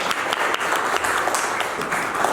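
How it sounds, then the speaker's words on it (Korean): Steady clapping from an audience at a tourism association general assembly award presentation in Ansan, a moderate, even wash of hands that carries on without pause. "큰 박수 부탁드리겠습니다"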